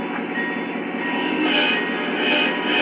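A Lionel Alaska Railroad GP38-2 model diesel locomotive, number 2001, run under Legacy control, starts up with a loud, steady engine drone and hum that swells slightly toward the end, with no talking.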